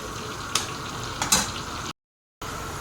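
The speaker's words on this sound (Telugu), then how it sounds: "ఇప్పుడు నేను కొద్దిగా అల్లం పేస్ట్ వేస్తున్నాను అల్లం పేస్టు దీన్ని కూడా బాగా కలుపుకోవాలి" Ginger paste being stirred into a frying pan of hot oil for a mutton dish, a steady close sizzle with a few soft scraping knocks and a short silent gap.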